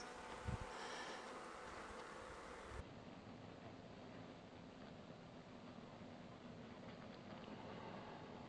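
Honeybees drone at an open hive during an inspection, a steady, dense buzzing that fills the whole stretch at moderate level, with a brief knock near the start and no talking.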